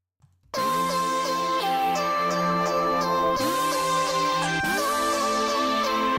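Bright synth chords from Hyperfunk preset number 6 in a future bass production, three sustained stacked chords played back to back with a rich harmonic, swelling tone, loud and alone with no speech.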